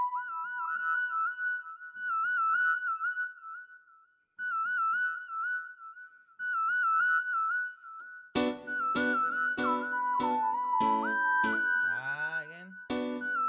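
Whistle patches on an Access Virus TI synthesizer: a warbling, vibrato-laden whistle tone in short repeated phrases with gaps, then a denser run of bright, sharply plucked notes and a gliding whistle line, all fairly loud with no talk.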